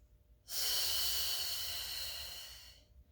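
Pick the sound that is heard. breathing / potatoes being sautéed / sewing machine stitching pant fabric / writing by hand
breathing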